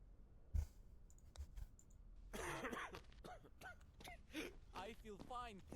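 A patient coughing in the Quarantine Zone video game, a short cough followed by raspy throat-clearing and breathy, whimpering vocal sounds, close and fairly quiet.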